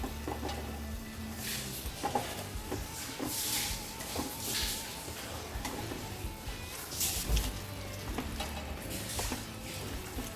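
Chicken pieces go bit by bit into hot masala for a Pahadi bhuna chicken curry, giving a low, steady sizzle and frying crackle broken by soft stirring and scraping sounds, with no one speaking.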